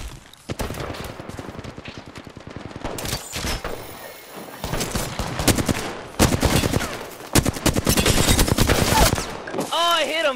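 Rapid automatic gunfire in the video game Apex Legends, loud sustained bursts with short breaks and dense crackling shots, with players' voices talking over the shooting.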